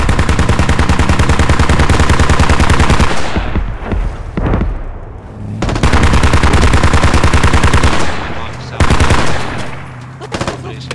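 Rapid machine-gun fire rattles loud and close during a 100-player video game match on the Gorodok map, in long sustained bursts broken by short pauses, with a few single shots and faint voices between the volleys.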